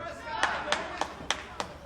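At a professional wrestling event, the crowd claps in a quiet, evenly spaced rhythm of about six sharp claps over a low background murmur.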